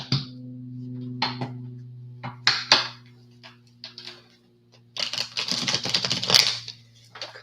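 Tarot cards are shuffled by hand in quick, crisp bursts of riffling and tapping over a low steady hum, pausing between bouts and ending in a longer flurry.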